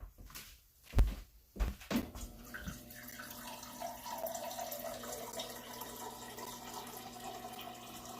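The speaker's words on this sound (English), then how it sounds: "Just gonna add some water in here." Water poured from a tap or jug into a cooking pot holding a beef roast and vegetables in a home kitchen, a steady filling rush running for several seconds after a few knocks of handling.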